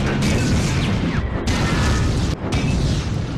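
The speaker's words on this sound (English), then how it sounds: "now we've got Molotov cocktails, petrol bombs" Loud, roaring bursts of fire from thrown Molotov cocktails, or petrol bombs, in the PS1 shooter Medal of Honor: Underground. Three long crackling blasts follow one another with brief gaps between them, and no voices are heard.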